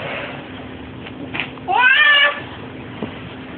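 A domestic cat gives one clear, drawn-out meow at close range, with a couple of faint bumps before and after in a quiet room.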